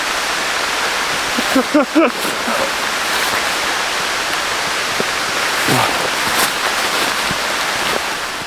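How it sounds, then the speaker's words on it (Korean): Heavy rain pours steadily over a mountain backpacking campsite near Eobisan, drumming loudly and continuously on a tent. A brief voice cuts in partway through. "비 많이 온다"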